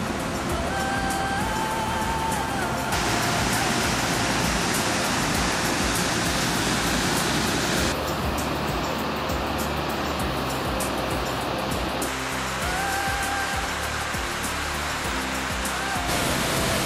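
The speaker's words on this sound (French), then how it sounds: "cette pluie alimente les innombrables chutes et cascades qui jalonneront notre parcours" A steady, dense roar of falling water fills the whole clip, broad and unchanging like a nearby waterfall.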